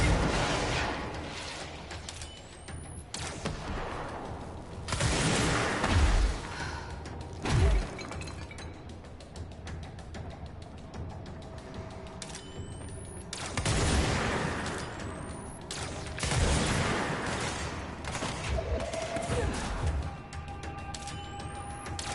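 Chaotic combat in the game Control. Several loud bursts carry shattering, breaking debris and gunfire in uneven clusters, with quieter stretches of low rumble between them.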